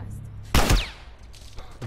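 Gunfire in the video game The Last of Us Remastered: one sharp, loud shot with a brief ringing tail, set against a low steady game background.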